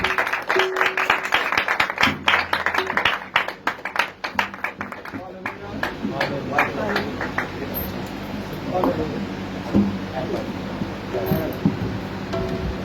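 Church congregation applauding to welcome a senior pastor, a burst of dense clapping that thins into scattered claps, with a voice speaking over it and the room noise lingering afterward.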